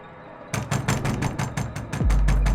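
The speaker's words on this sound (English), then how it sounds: "the knocking soon turned to a loud banging sound." Loud, repeated banging on a door in an animated horror story, about ten heavy evenly spaced blows, ending in a low sustained rumble.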